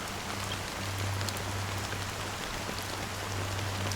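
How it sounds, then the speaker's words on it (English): A fine drizzle of black rain falls in the Honkai: Star Rail video game with a steady, even hiss of raindrops, accompanied by a low continuous hum. "Amidst the fine drizzle of black rain"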